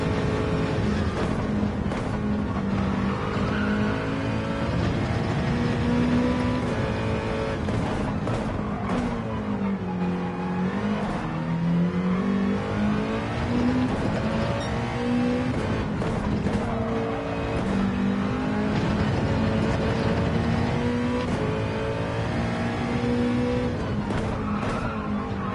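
Race car engine in Gran Turismo, revving loud and continuous with pitch rising and falling through gear changes and corners, tire squeal mixed in, no talking.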